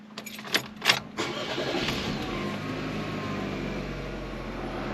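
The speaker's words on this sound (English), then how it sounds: "let's just start the car." A car engine starts after a few key clicks and jingles, catches quickly and settles into a steady, moderately loud idle, heard close up inside the car.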